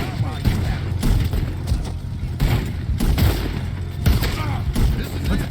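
Rapid bursts of video game gunfire in a multiplayer jailbreak match, heavy booming volleys that repeat every second or so under steady talk from several players.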